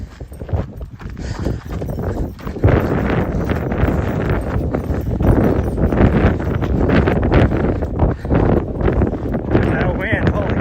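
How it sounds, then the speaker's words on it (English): Strong wind buffets the microphone on a trail run, a steady loud rumble with gusts, mixed with rhythmic footsteps and breathing, while people talk intermittently. "That wind, holy cow."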